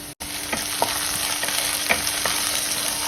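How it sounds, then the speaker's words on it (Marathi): Crushed garlic cloves frying with browned onion in a pan give a steady close sizzle, with a few soft scraping stirs spread through it. "लसूणही छान परतून घ्यायचं आहे"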